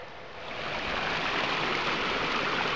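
The Lyuka river rushes steadily nearby, a broad even wash of flowing water that swells in over the first second, with no voices.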